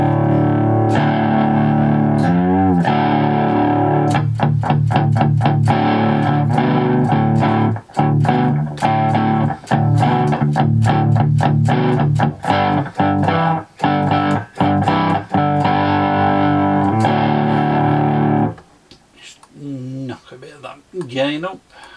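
Electric guitar through the overdrive channel of the Jamp Mk1 amp sim, loud crunchy chords with choppy rhythmic muting, ending in a short quieter noodling phrase.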